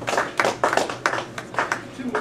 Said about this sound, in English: Let's give him a rousing round of applause.